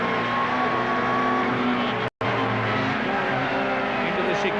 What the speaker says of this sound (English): look at the way Rob Gravitt pulls away down the straight